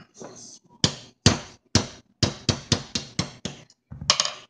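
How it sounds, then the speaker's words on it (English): Roll pin being hammered out of a Smith and Wesson Shield pistol, about a dozen sharp metallic hammer taps in an uneven rhythm, close and loud, with a brief scrape between strikes. "Drift that pin through."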